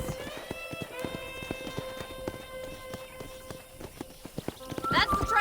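Horse hooves clip-clopping in Red Dead Redemption, a steady rhythmic trot of close hoofbeats with a whinny near the end.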